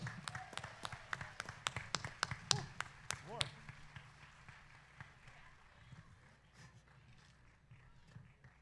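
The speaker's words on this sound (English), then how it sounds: "One more time, everybody. Big round of applause." An audience claps at an outdoor tribute concert in a park, with brisk scattered applause in the first few seconds that thins to faint, distant clapping and background murmur.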